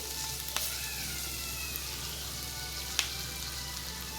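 Chopped tomatoes tip into a hot pan of tomato rice and sizzle steadily, with two brief clattering drops and a continuous frying hiss close by, no voices over it.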